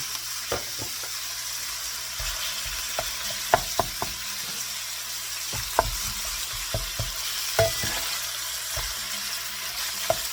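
Ground meat sprinkled with black pepper sizzles steadily in a pan while being crumbled and browned, with scattered sharp scrapes and taps of the utensil against the pan, close and alone without talk.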